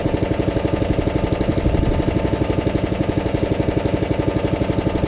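A Predator 212cc 6.5HP gasoline engine runs steadily on a Harbor Freight chipper shredder, a close, loud, rhythmic chugging with even firing pulses throughout.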